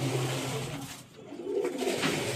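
Pigeons in a mother loft coo in low, overlapping murmurs close by, fading briefly in the middle before swelling again.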